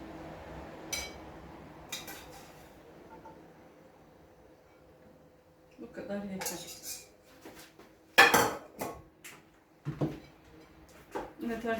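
Cooked beans are spooned from an upturned strainer onto a plate, giving quiet metal spoon taps and sharper clinks against the dish, scattered and close over a soft background.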